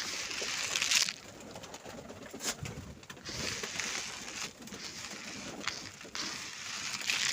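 Pigeons feeding on the ground in winter, with soft cooing and pecking amid faint rustling and light background noise.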